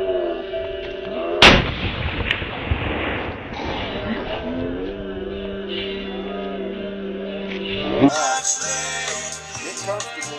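Loud rifle shot cracks out sharply near the start and rings with echo at an outdoor shooting session, with another sharp report later; voices murmur in the background between the shots.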